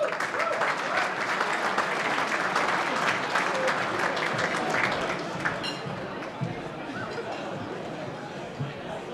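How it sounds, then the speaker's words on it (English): Audience applause at an Australian football awards night, a full, loud burst of many clapping hands that gradually thins and fades, with crowd chatter and murmuring voices mixed underneath. "Round of applause for Alan."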